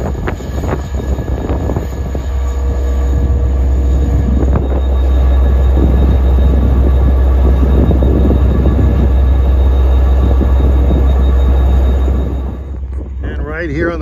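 An LIRR diesel locomotive, D30AC409, runs past close by with a heavy, constant low engine drone and rumble, rising to a louder stretch in the middle before easing off, with wind buffeting the microphone.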